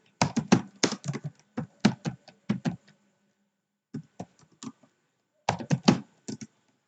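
Someone types on a computer keyboard while entering data into a Microsoft Excel form, with close, crisp clicking in quick bursts separated by short silent pauses, and no other sound.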